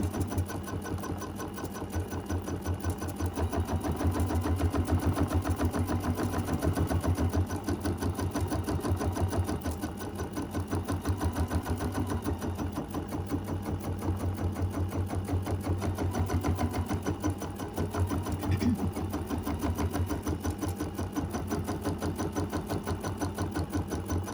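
An embroidery-style sewing machine stitches edge-to-edge quilting on a mini quilt in a hoop, a fast, steady mechanical whirr and needle chatter running close and unbroken for the whole stretch.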